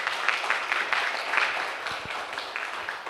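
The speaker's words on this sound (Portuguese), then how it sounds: "Vamos aplaudir o segundo grupo." An audience claps for the second group at a talk on Christianity and contemporary culture, a dense, steady wash of applause lasting throughout without any voices.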